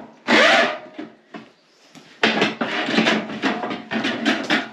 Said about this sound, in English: So it would also work on this, actually, as a jigsaw.